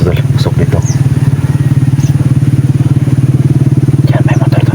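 A motorcycle engine idles nearby with a loud, steady, low throbbing pulse throughout, while people talk over it.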